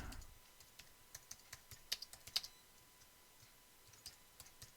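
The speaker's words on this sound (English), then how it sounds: "So I'm going to highlight this, and I'm going to type in" Quiet typing on a computer keyboard, irregular light clicks and taps scattered across a few seconds with a couple of slightly sharper keystrokes, close and faint, no voices.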